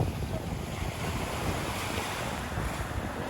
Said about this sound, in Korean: 완전 파도 치는 게 다 보여.